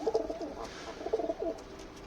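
Pet pigeons coo softly nearby in a few short, rolling phrases separated by brief gaps.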